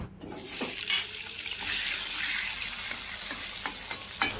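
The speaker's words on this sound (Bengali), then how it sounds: "তেলের মধ্যে ফোড়নে দেব গোটা জিরে এবারে দিয়ে দেব কেটে রাখা আলু" Cut potatoes dropped into hot oil with whole cumin in a wok, a loud, close sizzle that swells to a steady hiss, with occasional stirring clicks against the pan.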